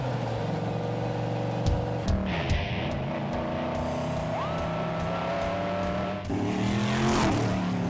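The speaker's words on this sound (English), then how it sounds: "Gentlemen, start your engines." Mini race cars at Puff & Putt in Montauk start and drive off, a steady engine drone with rising revs and brief tire scuffs, close by and loud throughout.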